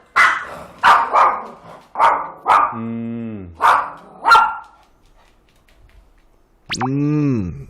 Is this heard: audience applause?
no